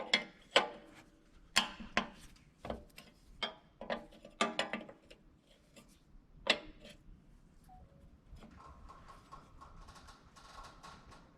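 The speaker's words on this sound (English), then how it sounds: "19mm wrench." A 19mm wrench ratchets on the injector lines of a 2001 Freightliner bus, giving a string of sharp metallic clicks in uneven bursts, fairly close, followed by a softer mechanical hum.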